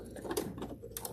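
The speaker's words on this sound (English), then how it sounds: "Take a couple of stitches backwards just to lock those in place" Home sewing machine running a couple of reverse stitches to lock a seam, a brief, fairly quiet mechanical whir with rapid ticking needle strokes.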